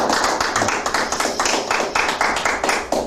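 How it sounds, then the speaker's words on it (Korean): Audience applause after a speaker's request at a talk, loud and close with dense, rhythmic hand claps continuing steadily throughout. "박수 한번 부탁드리겠습니다."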